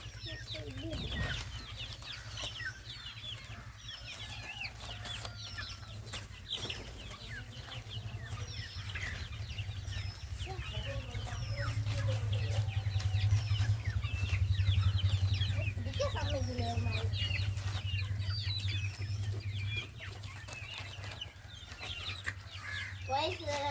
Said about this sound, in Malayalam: ഇതാണ് ഞാൻ പിടിച്ച കോഴി